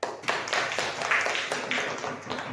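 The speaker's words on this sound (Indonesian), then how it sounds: "Beri tepuk tangan untuk kelompok 2." A classroom audience claps for a student group, a sparse, uneven patter of hand claps that runs steadily for a couple of seconds.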